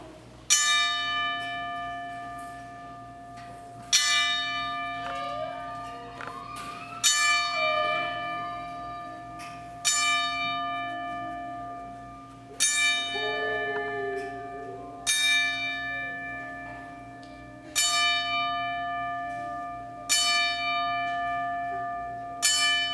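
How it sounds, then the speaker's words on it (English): A church bell tolls slowly in tribute at a pro wrestling event, a series of loud, evenly spaced strikes a few seconds apart, each ringing out and decaying before the next, with no talk over it. "we toll the bell 10 times"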